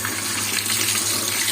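Cold water gushes steadily from a kitchen tap onto okra, a continuous close splashing rush with no voices.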